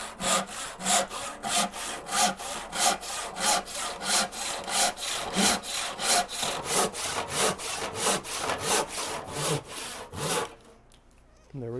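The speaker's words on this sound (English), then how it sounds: "So now we're going to need a crosscut saw." A hand crosscut saw cuts through a clamped wooden board on a saw bench, with about twenty steady rhythmic back-and-forth strokes up close before the cut ends and the room goes quiet.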